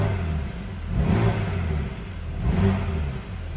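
A BMW G80 M3's engine revving through a MAD valve exhaust in efficient mode, with two swelling rev surges that rise and fall, heard close and fairly loud with a steady low rumble beneath.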